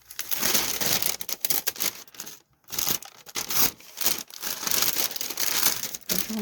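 Paper being crumpled and crinkled by hand for junk journal scrapbooking, close and loud, in irregular crackling bursts with a short pause in the middle.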